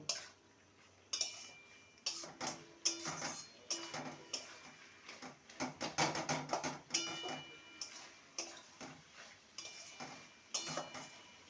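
Snake gourd pieces being stirred in a pan, with a utensil scraping and clacking against the metal in irregular, fairly close bursts, fairly quiet overall with no talk.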